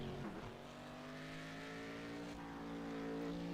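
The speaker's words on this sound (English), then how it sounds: "the number 997 Corvette, doing his first flying lap here at Road America." A Corvette race car, number 997, on a flying lap at Road America, its engine holding a steady, sustained drone with smooth harmonic pitch lines and no talk over it.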